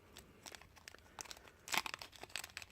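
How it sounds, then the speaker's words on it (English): A small rose fragrance packet is torn open by hand, giving soft, close crinkling and crackling with a sharper tearing burst midway, quiet overall and with no talk. "So we'll go ahead and we'll open our rose fragrance."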